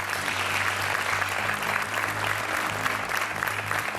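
Steady, dense applause from a television game show studio audience, sustained and even throughout with no pauses.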